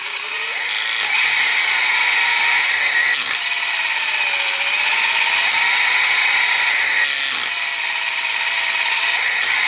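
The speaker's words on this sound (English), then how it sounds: "If you can't find them, grind them." Power tool grinding down RC car parts, a steady high-pitched whirring drone with brief surges and drops in intensity as it bites in, close and loud without talk.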